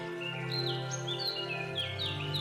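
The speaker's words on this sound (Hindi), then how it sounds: "पक्षी चहचहा रहे हैं" Birds chirping and singing outdoors around sunrise, several bright trilling calls overlapping at a steady moderate level over a low background hum, with no voices.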